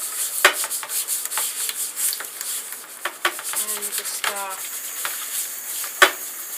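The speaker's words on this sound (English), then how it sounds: "we're going to wash this for a minute. Just kind of scrub lightly. A little noisy." A light brush scrubs a solarplate during washing in an etching process, with repeated soft rubbing strokes and a few sharper taps, close and moderately loud.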